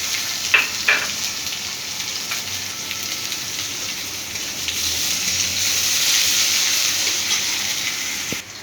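Chopped onion hits hot oil with a couple of crackles, then a continuous hissing sizzle that swells slightly toward the end.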